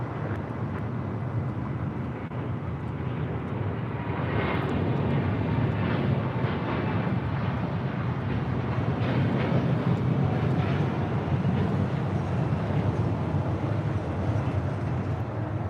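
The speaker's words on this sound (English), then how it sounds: "102 taking off to Seoul on a 787-9 Dreamliner." An Air Premia Boeing 787-9 Dreamliner takes off from LAX, its engines producing a sustained, heavy rumbling roar at moderate distance that builds a little and holds steady.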